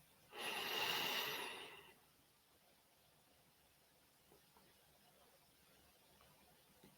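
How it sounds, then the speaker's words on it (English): A single long, audible in-breath during guided meditation, drawn through the nose for about a second and a half, close and clear, followed by quiet stillness. "Breathe in."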